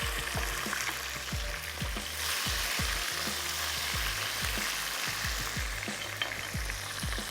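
Spiced vegetable masala sizzling and frying in a pan as tomatoes go in, with a steady bright hiss and repeated low knocks of stirring throughout, close and continuous, no voices.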